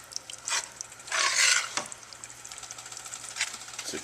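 A spoon scrapes and stirs a thick flour roux for seafood gumbo in a pot, giving soft, irregular swishes with one louder sustained scrape, all fairly quiet and close.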